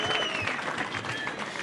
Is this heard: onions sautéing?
no